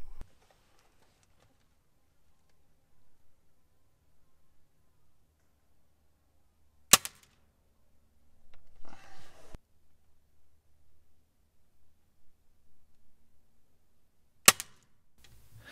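Two sharp, isolated shots from a Daisy Powerline 880 BB pellet rifle fired outdoors, each a loud crisp crack with a short tail, separated by several seconds of near silence and faint distant sound.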